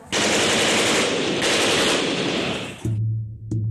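A long, loud, dense burst of rapid automatic machine gun fire at the Brazil–Paraguay border, continuous for nearly three seconds, then cutting off abruptly, followed by a low hum and one sharp click.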